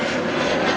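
A United Airlines airliner in American West Heritage livery departing O'Hare International Airport, a loud, continuous broadband engine roar filling the short stretch without change.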